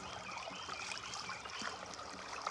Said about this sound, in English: water flow is just gonna get better